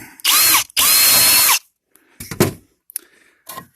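A power drill whines loudly in two long bursts, then a few quieter scraping and rattling sounds follow as it works through a thin metal can braced on a piece of wood.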